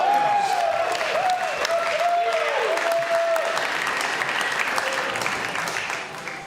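Sustained applause and crowd cheering at a pro-am bowling event as bowlers step up to the lanes, loud and steady throughout, with a whistle-like tone early on and fading slightly at the end.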